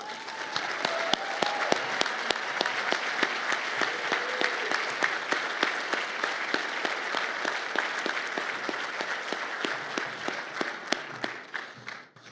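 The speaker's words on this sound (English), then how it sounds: "I just want to give you a round of applause again" Sustained audience applause at a charity gala honoring a guest, dense steady clapping filling the room for about twelve seconds before fading at the end.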